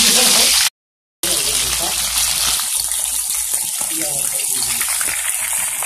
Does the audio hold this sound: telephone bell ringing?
no